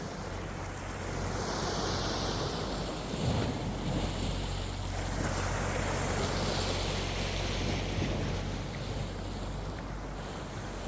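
Calm sea waves wash in a gentle, continuous surge, mixed with steady wind rumble and a low hum like a boat's, heard alone without voices.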